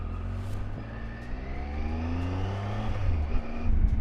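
A motorcycle ridden along a quiet trail through the countryside of the Eastern Townships, its engine droning steadily close by with rising and falling revs and a building roar near the end, with no talk.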